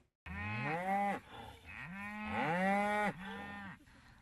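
Several cows on a Missouri livestock farm moo loudly and close by, three long drawn-out lowing calls one after another, with no talking over them.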